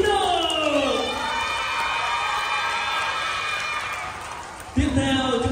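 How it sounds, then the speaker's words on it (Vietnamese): Audience at a summer dance competition cheering and whooping to welcome a judge, with an MC's amplified voice talking over the crowd noise before a fresh burst of cheers near the end. "Chúng ta cùng dành một tràng vỗ tay để chào đón giám khảo Dancer Dino."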